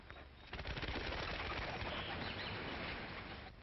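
A performing pigeon bursts into flight in an old western film scene, rapid close wing flaps clattering loudly for about three seconds before fading.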